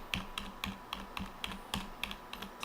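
Rapid, steady keystrokes clatter on a computer keyboard, close up, in an even run of clicks with no voices.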